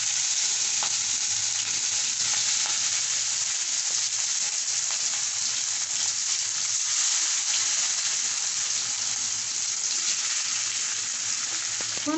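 Hilsa fish slid into hot oil tempered with whole cumin and nigella seeds gives a loud, unbroken hiss of frying that holds evenly throughout, with no voices.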